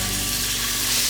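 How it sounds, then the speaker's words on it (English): Steak sears loudly in a hot pan, a bright continuous sizzle and crackle heard up close with no talking. "Got a nice sizzle to start."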